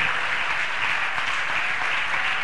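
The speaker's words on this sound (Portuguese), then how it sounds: "mais uma salva de palmas a Ele" A church congregation claps in a steady, dense wash of applause that holds at full strength throughout, close and loud, with no voices over it.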